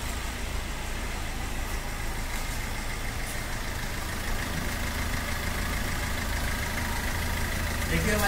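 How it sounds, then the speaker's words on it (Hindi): A Maruti Suzuki Ertiga with a starting problem, its engine idling in a steady, even rumble, close and continuous throughout. "आवाज़ सुन सकते हैं हमारी गाड़ी की"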